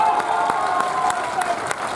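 Listeners at a Diwali fair poetry recital in Lucknow clap and cheer, a thick crowd ovation with a few sharper individual claps standing out and a faint voice underneath.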